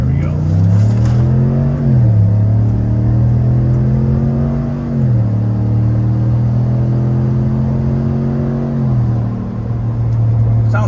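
A Chevrolet Silverado ZR2 pickup with a Borla ATAK exhaust and the factory air box accelerates on the road. The engine drone is loud and close and climbs in pitch through several gear shifts, heard from inside the cab.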